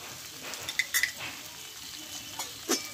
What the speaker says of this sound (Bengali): ঘিটা দিয়ে একটু নাড়াচাড়া করে নেবো আবারও 1 মিনিট মতো।